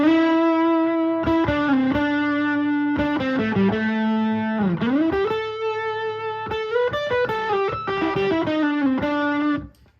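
An electric guitar played through a ProCo Rat distortion pedal, loud sustained notes with bends and quick phrases, ending abruptly.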